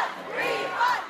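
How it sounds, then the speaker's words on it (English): A festival crowd near Toronto chants in unison, a dense wall of many voices calling out for refunds, loud and sustained with rising swells. "calls for a refund came from the crowd at a Toronto-area festival this weekend"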